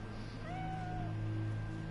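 A cat in Cyberpunk 2077 gives a single drawn-out meow, fairly close and soft, over a low steady game ambience hum.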